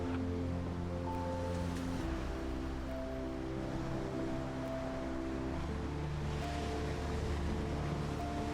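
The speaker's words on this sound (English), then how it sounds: "Waves roll in steadily here, sometimes gentle, sometimes strong enough to draw experienced surfers and kite surfers." Ocean waves roll steadily onto a beach in Cape Verde beside a coastal nature reserve, a continuous broad surf wash with no distinct breaks, overlaid by a low, sustained musical drone.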